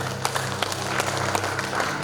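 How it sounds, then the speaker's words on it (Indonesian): Wedding guests in a church clap together in a dense, steady burst of applause that fills the space for a couple of seconds. "Tepuk tangan buat Tuhan."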